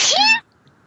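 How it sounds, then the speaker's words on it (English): A woman gives a single short, sharp sneeze, close and fairly loud, then quiet. "She sneezes, not me."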